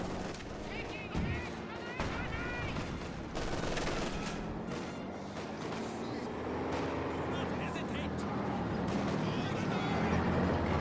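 Dense sustained gunfire in Company of Heroes 2 at the rifle-platoon scale: conscripts pinned down, mortars firing, overlapping small-arms bursts and explosions rolling continuously under a commentator's steady voice.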